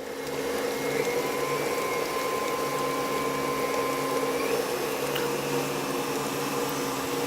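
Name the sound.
electric mixer whipping butter for tamale dough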